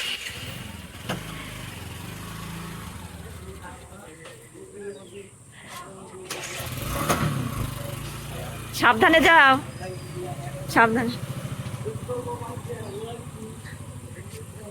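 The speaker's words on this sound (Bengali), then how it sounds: "তো চলে গেল বাইক নিয়ে" A motorcycle starts and rides off, its engine rising and fading beneath ongoing talk, with birds chirping nearby.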